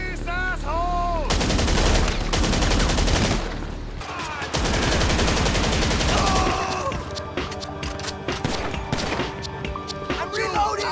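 During a GTA Online heist, dense automatic gunfire rattles in long loud bursts, then breaks into scattered single shots and echoing impacts, with voices shouting over part of it.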